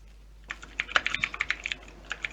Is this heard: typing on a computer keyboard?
yes